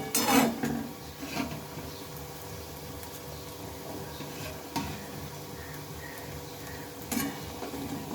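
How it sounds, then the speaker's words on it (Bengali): Bitter gourd balls frying in a pan give a soft steady sizzle, with a few louder scrapes and clinks of a utensil stirring against the metal. "এই উচ্ছের বলগুলো একদম ভাজা হয়ে যাচ্ছে"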